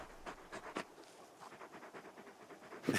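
Torgal, the giant wolfhound companion in Final Fantasy XVI, pants in short breathy bursts at close range, a soft rhythmic huffing with a louder sound near the end.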